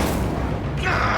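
A fiery Incendio spell erupts in Hogwarts Legacy, a loud dense burst of flame and impact filling the whole moment, with a brighter hissing flare toward the end.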